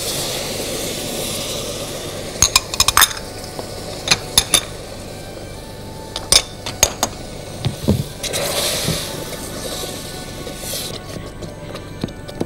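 A spoon stirs hazelnuts, pistachios and cashews with semolina and sugar in a pot, giving sparse, close scraping knocks and clatters at irregular intervals against a quiet background, with no talking.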